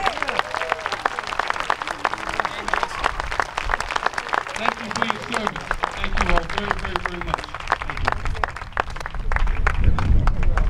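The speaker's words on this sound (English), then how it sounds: "Give them a round of applause." An outdoor audience claps at a Memorial Day wreath ceremony at the Vietnam Veterans Memorial, a long, sustained round of applause with crisp individual claps, voices and cheering mixed through it and growing at the end.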